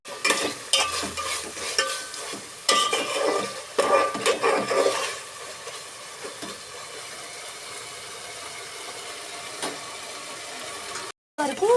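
Spinach frying in a pan for palak rice, busy clattering stir strokes and sizzling at first, then settling into a quieter steady fry with occasional scrapes and a short cut near the end.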